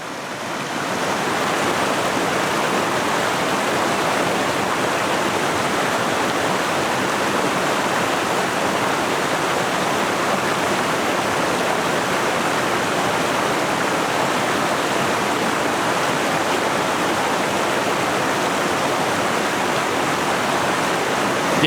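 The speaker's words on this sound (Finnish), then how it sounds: "Toi on siis vain joku ihan satunnainen putous, minkä huomasin sattumalta tuolta alempaa reitiltä." A small waterfall in a Norwegian river valley pours in a steady, dense roar of rushing water, loud and continuous from close by, with no voices over it.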